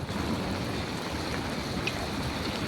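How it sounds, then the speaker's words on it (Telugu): Heavy rain falls in Kuwait during a thunderstorm, heard as a dense, steady wash of hiss and patter with no clear thunderclap. No one speaks over it. "వర్షం పడుతుంది, ఫుల్గా ఉరుముతుంది."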